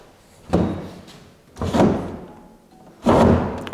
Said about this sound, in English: Let's look in one of these drawers.